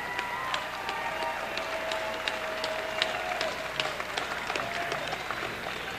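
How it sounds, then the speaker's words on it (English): Audience at a combat sports fight night applauds both fighters after a first-round stoppage, a steady wash of crowd clapping with scattered sharper claps and a faint tonal hum running underneath. "how about a nice round of applause for both fighters"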